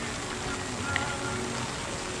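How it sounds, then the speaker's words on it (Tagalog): Rain falls steadily as a soft, even hiss with no distinct drops or pauses, a moderate wash of sound throughout. "Umuulan kasi."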